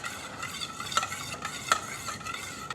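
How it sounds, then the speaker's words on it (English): A spoon stirs dumpling sauce of soya sauce and rice vinegar in a bowl, with soft continuous swishing and a couple of light clinks against the side, close and quiet. "Now we're going to nicely stir this."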